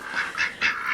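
Female ducks quack in quick succession, about four short nasal calls packed into a second, fairly close and at moderate volume with no talking.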